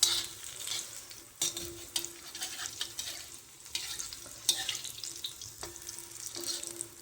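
Bhaji fritters fry in oil on a tawa, a continuous close hiss and crackle broken by sharp scraping and stirring strokes of a spatula against the pan.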